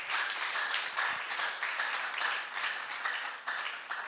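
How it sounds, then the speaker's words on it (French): An audience at a French-language presentation claps on request, a moderate, even patter of applause that holds steady throughout at a fairly quiet level. "Veuillez applaudir s'il vous plaît."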